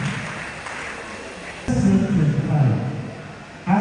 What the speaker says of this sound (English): a round of applause for each and every one of the girls for making this happen